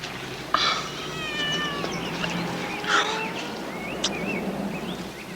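A cat meows repeatedly in a cartoon, a few rising and falling calls spread through the clip, close and fairly clear over a faint background.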